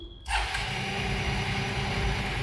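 A parked Honda Unicorn motorcycle starts by remote control, its engine catching suddenly after a brief hush and settling into a steady, close, loud idle with no talking.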